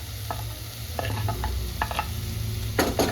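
Sweet pumpkin pieces sizzle in hot oil in a home kitchen pan while a spoon stirs them in several short scraping strokes, with a steady frying hiss underneath.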